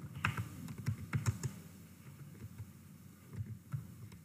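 Computer keyboard typed on in quick, close clicks, a short burst of keystrokes that slows and then resumes, over a low steady hum.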